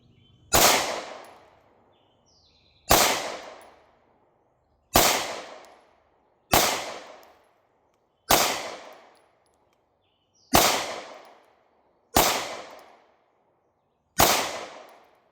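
Eight Hi-Point C9 pistol shots fired outdoors at a target, each a sharp loud crack with a decaying echo, spaced roughly two seconds apart.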